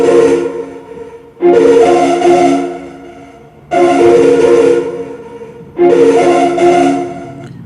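A Soca beat loop built in GarageBand and played back in the Blocs Wave app, with three loud, full-band bursts of music separated by short dips, no talking over it.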